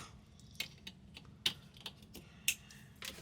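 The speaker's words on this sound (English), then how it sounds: "Click it until you hear it click" Several small, sharp plastic clicks of a cable connector snapping into a Tesla Model Y rear entertainment screen sound at irregular intervals, close and quiet, over faint background hiss.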